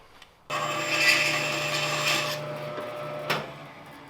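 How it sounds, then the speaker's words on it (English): A bandsaw cuts straight through a glued wooden dovetail joint, a steady loud whirring rasp of blade in wood lasting about three seconds, then winding down with a brief knock. "I'm gonna bandsaw it real quick, right through the dovetail"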